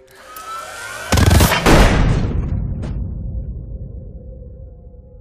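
Blast explosion in a space movie, a sudden loud booming burst with a second heavy hit, then a long rumbling decay fading out over several seconds.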